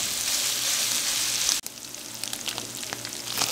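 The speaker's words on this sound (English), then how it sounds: "I got my sausage all nice and cooked through" Sausage sizzling in a pan, a steady close hiss that breaks off briefly and then returns with scattered pops and stirring clicks.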